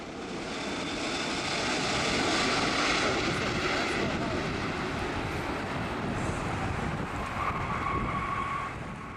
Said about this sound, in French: On y va en avion.